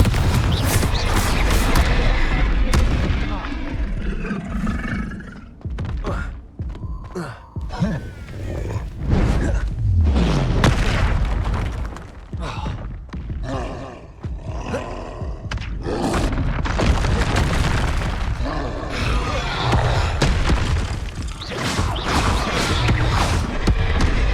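Repeated fiery spell blasts and booms from Hogwarts Legacy gameplay, including the Confringo fire spell, hitting in quick irregular bursts over ongoing combat noise, with no talk.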